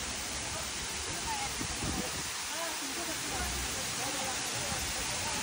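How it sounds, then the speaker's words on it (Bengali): Khorfakkan waterfall, a roadside falls in open ground, pours with a steady broadband rush of falling water that stays constant and even throughout, with no talking. "এর সাউন্ডটা আসলে অনেক ভালো লাগে, পানি পড়ার শব্দটা"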